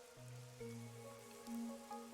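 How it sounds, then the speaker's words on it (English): Steady rainfall in the video game Master Detective Archives: Rain Code, a soft constant patter under low sustained background music tones. "The rain, it never stops."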